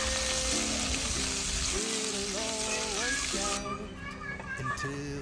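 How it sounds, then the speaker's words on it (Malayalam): Mustard seeds spluttering in hot coconut oil in a pan, a dense crackling hiss that runs steadily for about three and a half seconds and then thins out, with tonal background music playing throughout. "ഒരു ഉരുളി ചൂടാക്കി കുറച്ച് വെളിച്ചെണ്ണ ഒഴിച്ച് കുറച്ച് കടുക് പൊട്ടിച്ചെടുക്കാം"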